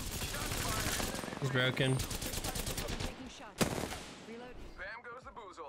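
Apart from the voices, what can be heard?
gunfire in video game Apex Legends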